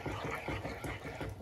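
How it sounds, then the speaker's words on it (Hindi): Water poured into simmering malai kofta gravy in a home kitchen, a soft continuous splashing pour that is fairly faint. "अभी मैं इसमें थोड़ा सा पानी और डालूंगी,"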